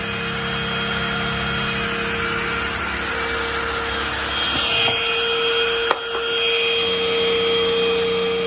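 A 600W cordless stick vacuum cleaner runs on turbo mode, a loud, steady close-up motor whine with high-pitched tones, briefly shifting in pitch and interrupted by a sharp knock partway through.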